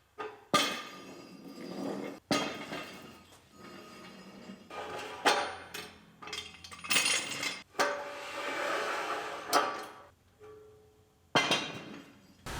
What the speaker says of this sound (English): We can start unbolting our clamps.